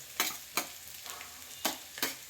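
Cut garlic, ginger and green chilies sizzle in a pan for a mutton pepper dry, a steady low hiss with four sharp scraping stirs at regular intervals.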